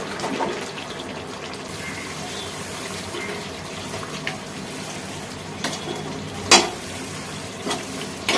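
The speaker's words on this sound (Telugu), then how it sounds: "వేసుకుందాం దీనిలో రైస్ వేసేసుకుందాం" Uncooked rice being tipped into a pot of cooked dum biryani chicken, its oil risen to the surface, gives a steady soft hiss and bubbling with a few sharp scrape and clatter bursts near the end. No one speaks.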